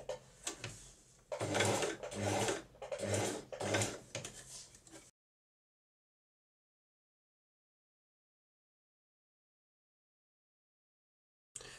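A sewing machine stitches around the curve of a bandana-style baby bib in bursts of needle clatter over about five seconds, pausing briefly between runs, then stops and falls silent.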